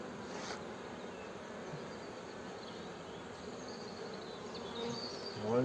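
Honeybees from an opened hive during an early spring inspection hum in a steady, close, moderately loud drone, with a few louder buzzes passing near and no talk.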